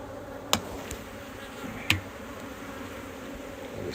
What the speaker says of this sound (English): This could just be bees coming to rob